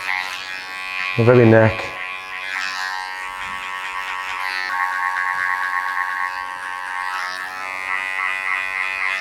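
Electric hair clippers buzz steadily through a taper haircut with a textured top, shifting pitch as they work close through the hair, while a barber talks throughout.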